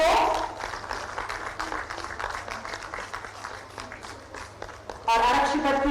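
An audience claps at a ceremony where the Chief Minister hands appointment letters to athletes. The dense, steady clapping runs for several seconds at moderate volume before a voice cuts in at the end.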